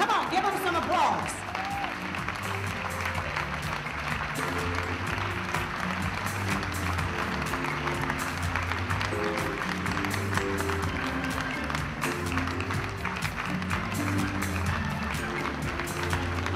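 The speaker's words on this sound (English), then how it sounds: "Come on, give them some applause." A conference audience in a hotel ballroom keeps up sustained, steady applause throughout, with someone speaking over the clapping.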